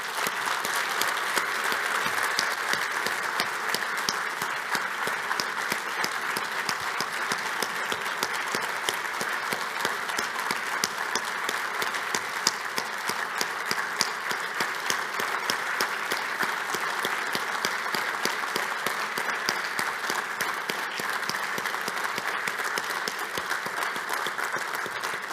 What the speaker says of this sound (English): I would like the warmest applause that we can for the family.